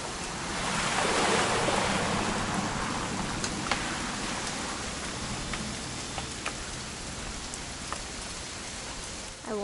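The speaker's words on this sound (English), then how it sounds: "It's gonna rain the whole weekend, isn't it?" Steady rain in the video game What Remains of Edith Finch, a dense, continuous patter that is loud and close throughout, with scattered sharper drops against the hiss.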